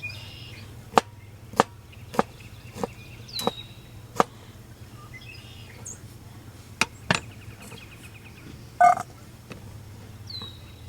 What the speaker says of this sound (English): Just gonna do small dice.